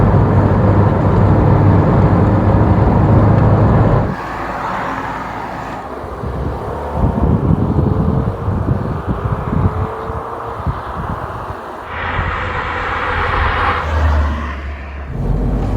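An MG ZS 120 car driving on the road, with a steady engine and tyre roar and wind rushing past throughout, loud and close from inside the moving car.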